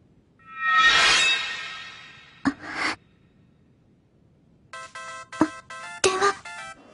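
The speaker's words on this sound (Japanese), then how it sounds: "電話。" A telephone rings in a Japanese anime episode, with short bursts of bright electronic trilling repeating close by after some soft breathy rustling and quiet.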